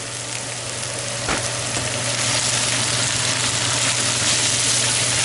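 Red cabbage cooking and being stirred in bacon fat: a steady, loud sizzle with a constant low hum beneath it, one sharp clink from the stirring, no voices.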